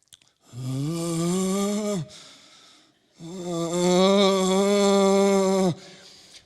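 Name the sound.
man imitating his guttural fearful reaction to a spider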